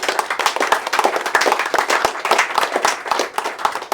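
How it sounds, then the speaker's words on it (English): An audience at a police barracks handover ceremony claps for police officers, with dense, close, brisk applause running steadily for several seconds. "Let's give our police officers a round of applause."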